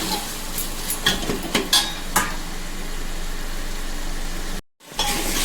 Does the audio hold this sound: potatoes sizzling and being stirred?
yes